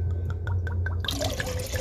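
Rum poured into a Puerto Rican coquito mixture, a short liquid splash and trickle with dripping, close up over a low steady hum.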